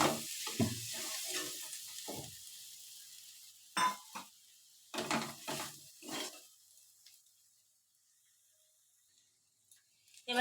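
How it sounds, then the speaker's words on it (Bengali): Prawns going into a hot frying pan for a prawn and malabar spinach coconut milk curry, with bursts of sizzling and stirring scrapes in short clusters separated by quiet gaps. "চিংড়ি মাছটা দিয়ে একটু নেড়ে নারকেলের দুধটা দিয়ে দেবো"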